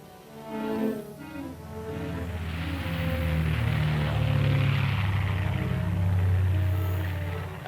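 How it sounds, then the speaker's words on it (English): An F-102 Delta Dagger jet interceptor carrying Falcon rockets flies toward target practice, its engine a steady, loud roar with a low droning hum that holds throughout, with no talk. "The F-102 with Falcons aboard heads for target practice."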